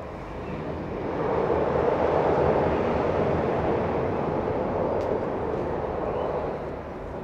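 Trains passing near old ruins, a broad, distant rumbling roar that swells and holds steadily before easing slightly, with no voices over it.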